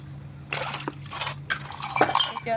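A small metal bell clinks and rattles in short bursts while it is scrubbed clean, close and fairly quiet, with a faint ringing tone near the end and a steady low hum underneath.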